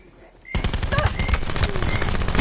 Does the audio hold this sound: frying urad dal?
no